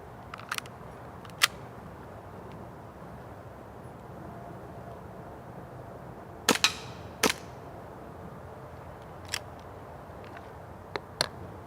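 Sharp reports from a WE Warrior airsoft M1911 pistol, a handful of isolated cracks spread irregularly, two close together near the middle, standing out clearly over a quiet, steady background hiss.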